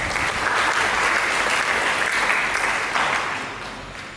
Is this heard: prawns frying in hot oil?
no